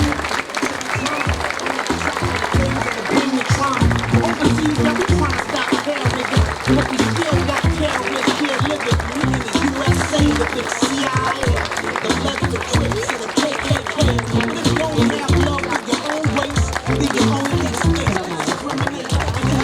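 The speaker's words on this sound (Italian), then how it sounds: "Un applauso forte a queste ragazze" An audience at a catwalk show in Sutrio, Udine, gives a loud, sustained round of applause for a group of gymnastics girls, continuous clapping with talk carrying over it.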